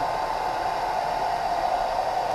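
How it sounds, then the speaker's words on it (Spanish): A hair dryer blows hot air onto vinyl on a Yamaha MT-01 motorcycle, a steady, loud, close whooshing hum with no talking. "llevamos ahí un buen rato dándole calor con el secador"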